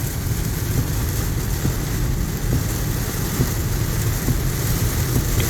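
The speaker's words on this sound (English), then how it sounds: "A little bit of rain." Heavy rain drumming steadily on a car during a drive near Jacksonville, a dense continuous wash of drops with a low rumble underneath, loud and unbroken throughout.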